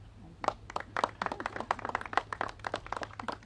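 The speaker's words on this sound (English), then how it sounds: "Give another round of applause for one of the most incredible leaders I have ever had the privilege of serving next to." A small crowd applauding a speaker at a political event, steady overlapping hand claps at close range, moderately quiet, with a voice faintly present beneath.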